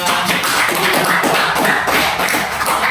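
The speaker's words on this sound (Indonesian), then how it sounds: "Tepuk tangan berdua" Dense, steady clapping from a school audience after an icebreaker, a loud continuous patter of many pairs of hands lasting the whole stretch with no voices over it.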